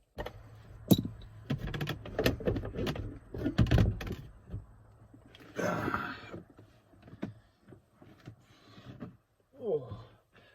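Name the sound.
wrench removing 13mm nut from car door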